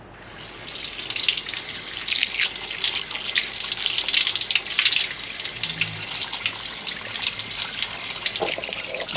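Water runs steadily from a small fountain at the St Petka Monastery near Bijeljina, Bosnia, a close, continuous splashing trickle that holds throughout with no talking.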